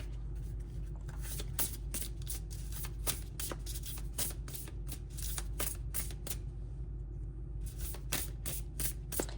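Tarot cards shuffled by hand, a quick run of crisp riffling bursts and soft slaps in an irregular rhythm, close and clear with a steady low hum behind and a short pause near the end.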